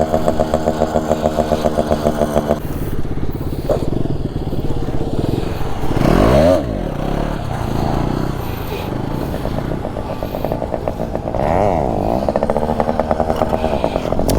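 Motorcycle engine during wheelie stunt practice, loud and close, holding a steady buzzing idle. Revs rise and fall in surges, with a couple of throttle blips climbing sharply midway.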